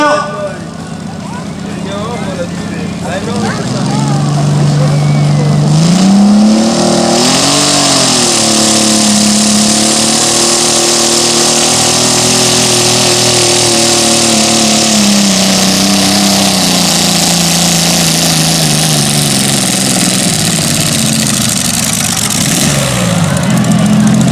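A small garden tractor engine runs steadily and loudly throughout at a 2013 event in Lubersac, its pitch rising and falling as it revs, with a voice speaking over it.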